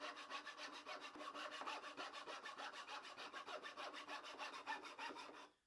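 A small hacksaw from a Deko 168-piece tool kit cuts through a wooden 2x4, with quick, steady back-and-forth strokes. The sawing is close and continuous, with no talk, and it stops abruptly at the end.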